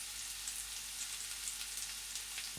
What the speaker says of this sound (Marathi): बटाटा छान तेलामध्ये परतून घ्यायचा आहे आपल्याला